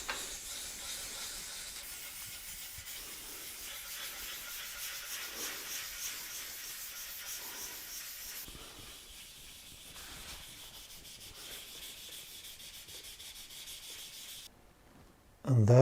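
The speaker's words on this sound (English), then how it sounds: "we have to sand the complete area we repaired" Rhythmic wet sanding strokes with 2000 grit paper over a repaired scratch on a motorcycle, soft rubbing swishes repeating back and forth, fairly quiet, with a brief louder burst at the very end.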